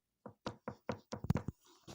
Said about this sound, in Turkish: Ha, kapı çalıyor sanırım.